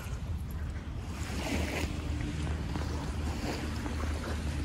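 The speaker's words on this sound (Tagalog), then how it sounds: "We're just walking along Petone Beach." Waves washing on Petone Beach in New Zealand on a sunny, calm day, a steady low rushing surf with soft outdoor wash and faint wind noise, continuous and moderately distant, with no talking.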